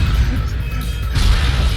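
Wooden crates smashing in the video game Ratchet and Clank 3 on Inferno mode, a dense run of cracking breaks and thuds over a steady rumbling game soundtrack, with no pause.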